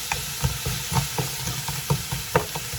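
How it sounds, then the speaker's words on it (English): Broccoli florets dropped by the handful into a pot of homemade dairy-free broccoli soup, giving a close series of soft thumps and rustling clatter at an uneven rhythm, with no talking. "So from here, I'm going to add in my broccoli."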